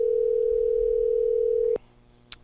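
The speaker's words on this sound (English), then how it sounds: "it's a good opportunity for folks to hear the sound of a phone ringing" A steady telephone line tone sounds during a call, holding one unbroken pitch for nearly two seconds before it cuts off abruptly into a quiet line with a faint click.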